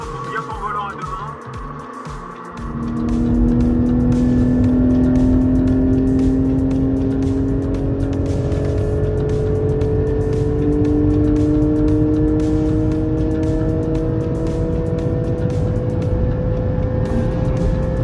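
A Porsche 718 GT engine revs hard and climbs through the gears while accelerating on the Nürburgring, a loud sustained drone rising steadily in pitch, with a brief quieter interior passage at the start.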